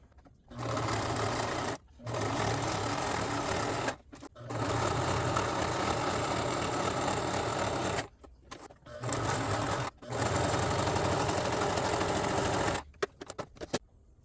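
Sewing machine stitching seams of a cosplay costume, loud and close, running in several sustained bursts separated by short pauses, with brief stops and starts near the end.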